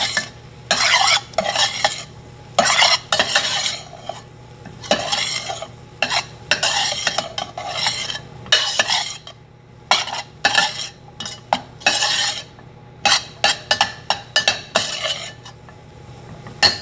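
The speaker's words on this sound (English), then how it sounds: "We want to stir that well, make sure it's mixed before we add anything else." Flour stirred into sautéed onions in a pan makes a rhythmic series of loud scraping, clattering strokes of a utensil against the pan, with short pauses between bursts, close up.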